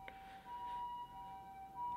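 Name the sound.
sirens of emergency vehicles passing an apartment in Osaka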